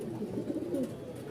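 A pigeon at a Dhaka pigeon market gives a low, soft, throaty coo, close by and fairly quiet, lasting about a second.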